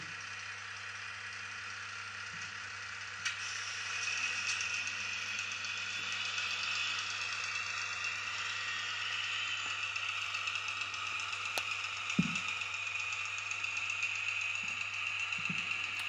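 A steady mechanical hum from a TT-scale model locomotive's small motor runs throughout at moderate level, with a faint whine on top and an occasional soft click.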